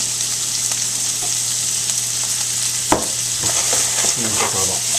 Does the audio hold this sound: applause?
no